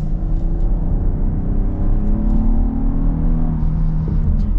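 A 2024 Kia Carnival minivan pulls hard in sport mode, its engine rising in a steady, loud drone with climbing pitch, heard from inside the cabin without speech.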